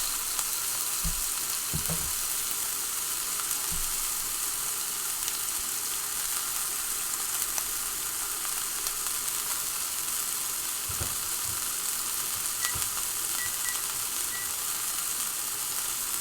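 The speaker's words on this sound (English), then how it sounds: "So these patties cook really fast." Burger patties frying in a pan, a steady loud sizzle running throughout with a few faint clicks and bumps of utensils, no talking.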